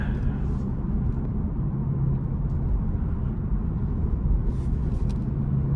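A Kia Stinger 2.5T engine drones low and steady from inside the cabin while the car is driven, a constant rumble with no clear revving.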